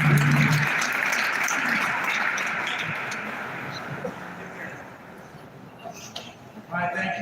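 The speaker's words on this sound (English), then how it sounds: "So I'm gonna give the Senate applause right now." A public meeting crowd applauds, a dense burst of clapping that gradually thins and fades, followed by scattered sounds and a voice starting to speak near the end.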